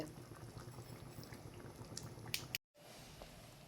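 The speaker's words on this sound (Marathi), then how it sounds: "भाजीला उकळी आली आहे।" Mixed dal and vegetable curry boiling in a pot, a steady low bubbling and simmering texture that runs continuously, cut by a brief silent gap before it resumes.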